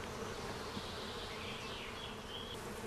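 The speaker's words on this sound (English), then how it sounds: "First, the bees are shaken onto a sheet of plastic." Honey bees shaken onto a plastic sheet give off a dense, continuous buzzing hum, many insects droning together close by, with no voices.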